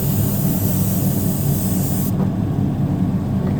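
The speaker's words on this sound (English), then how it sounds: "I'm just going to spray it real light into this mesh." Thin black paint is sprayed lightly onto a crankbait through mesh, giving a steady close hiss that cuts off about two seconds in, leaving a duller, quieter rush of air.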